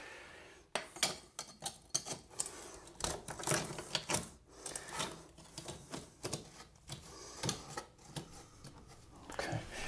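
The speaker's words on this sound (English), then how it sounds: "taking your snips and just back cutting some of this will help you get it in place" Tin snips back-cut the backing of a corner shower niche in quick, uneven clipping and crunching cuts, close and busy, with no speech.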